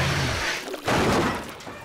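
Cartoon burst of overly fizzy soda cans on a bumpy road, a loud crashing, shattering pop with a thump that rings on briefly, mixed with animated show music.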